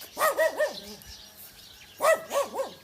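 Two bursts of a dog's yelping, wavering barks, each a rapid series of three or four, separated by a quiet pause; moderately near.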